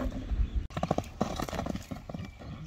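Horse hoofbeats from a horse arriving at an outdoor horseback event clop in an uneven series close by, over a busy, noisy crowd background.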